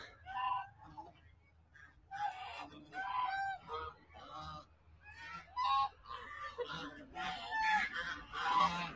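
Geese honk repeatedly in irregular bursts, fairly close, with several birds calling over one another and quiet gaps between the loud honks.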